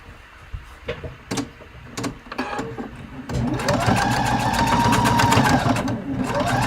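A sewing machine basting along a fabric edge: scattered handling clicks and thumps at first, then a steady, fast rhythmic stitching hum close by for the last few seconds.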